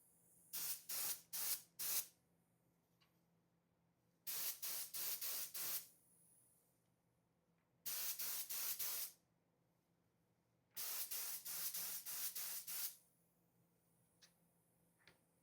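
Chocolate velvet spray from a spray gun coats a dessert in four bursts of loud, close hissing, each a couple of seconds long with brief sputtering pulses, separated by quiet pauses.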